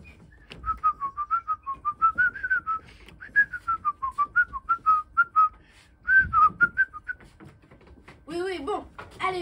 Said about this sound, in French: J'emballe les cadeaux en sifflotant.